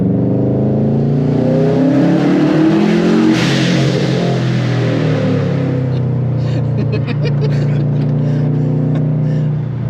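A loud Subaru Impreza GC8 engine revs and roars steadily up close on the Nürburgring, pitch rising and falling as it accelerates, with a brief whine near the end.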